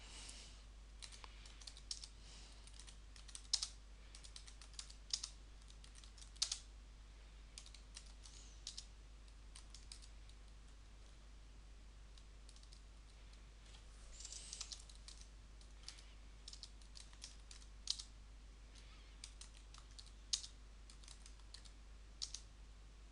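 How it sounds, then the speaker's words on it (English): Text being typed on a computer keyboard, soft close key clicks arriving in irregular bursts and scattered single taps over a quiet steady hum, with no talking. "So let me just type some text."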